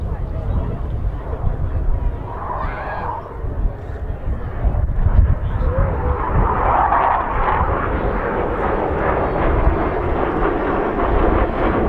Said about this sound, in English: Hawk T2 is one of the most advanced fast-jet training aircraft in the world